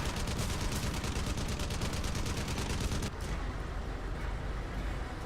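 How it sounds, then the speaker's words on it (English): Dense, continuous gunfire from the video game Crysis on PS3, rapid repeated shots forming a loud, unbroken barrage that thins slightly after the first three seconds. "somebody's shooting at me from behind"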